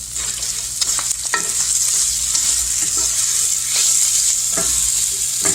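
Vegetables and pork intestines stir-fry in a hot pan with a loud, continuous sizzle, broken by scraping stirs and clattering utensil knocks.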